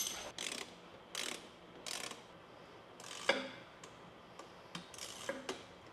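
A 7mm socket wrench ratchets on small bolts of a Wagner Sprint powder gun, giving short quiet bursts of clicking separated by pauses, close and alone.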